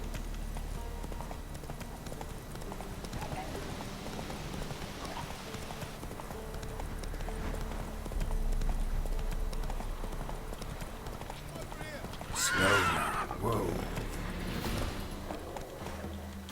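Horse hooves clip-clopping at a steady walking pace in the Witcher 3 video game, close and continuous under background music and a player talking, with a brief louder burst midway.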